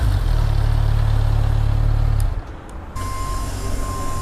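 Kawasaki Z1000 Blackwidow motorcycle engine running with its original exhaust, a loud, steady low rumble that cuts out briefly partway through, then returns as a quieter idle with a faint high tone.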